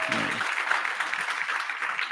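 Arts salon audience clapping after being urged to applaud, a moderate, even patter of hands that starts right after a brief voice and continues steadily to the end.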